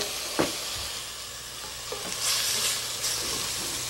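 Kasuri methi (dried fenugreek) cooking in a pan with a splash of water added for cream chicken, producing a steady hiss and sizzle with a few stirring clunks and a brief louder steam burst partway through.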